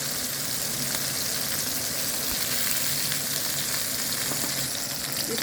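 A steak fries in a hot pan with a dense, constant sizzle and spatter that holds even and fairly close throughout, with no voices.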